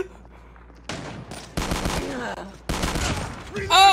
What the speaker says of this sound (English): do you guys see all the bullets that I'm shooting?